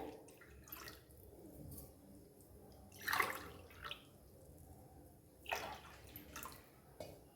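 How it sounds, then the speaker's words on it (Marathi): Water poured into a cooking pan for a lentil snack recipe, heard as a few short splashing pours and trickles close by, with quieter gaps between them. "तर आपण अजून पाणी ह्याच्यामध्ये टाकून घेऊया"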